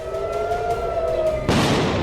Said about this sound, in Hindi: तेल अवीव में गूंजे सायरन